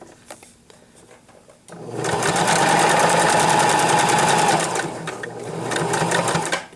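A sewing machine stitches a duck pillow, starting after a short pause with a close, rapid, even mechanical whir that runs for several seconds, dips briefly, then resumes.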